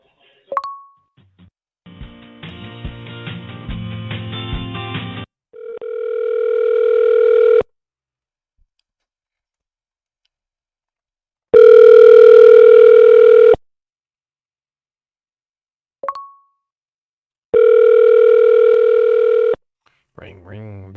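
A telephone line tone sounds during a call to a car dealership, long steady ringing tones with silent gaps between them, after a short stretch of hold music, with a couple of faint clicks.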